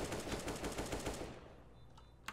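Rapid automatic gunfire in the shooter game CS:GO rattles in a fast, steady burst for about a second, loud and close, then cuts off and leaves a quieter tail with a couple of faint sharp ticks.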